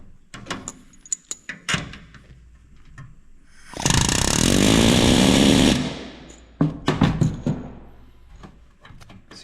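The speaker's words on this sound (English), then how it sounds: "holding the bucking bar nice and straight, adding pressure." A pneumatic rivet gun drives an aluminum aircraft rivet against a bucking bar, a loud continuous rattling burst of about two seconds set between scattered handling clicks and knocks.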